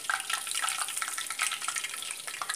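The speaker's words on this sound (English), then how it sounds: "Look at that, they're sizzling." Steady crackling sizzle of French fries frying in hot oil, dense and close, continuing without pause.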